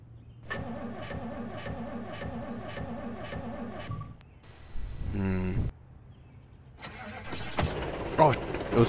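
A car engine in a post-apocalyptic survival video game cranks over with a repeating starter rhythm, pauses, then sputters briefly and fires up, followed by a rougher revving burst.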